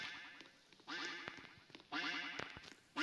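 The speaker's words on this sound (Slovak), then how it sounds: "Počujem kačku." A duck in a horror parkour video game quacks in repeated raspy bursts, loud and close, with short gaps between the calls.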